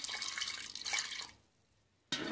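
Water is poured into a pressure cooker holding dal, a close splashing stream lasting just over a second, then a pause before another burst of pouring starts.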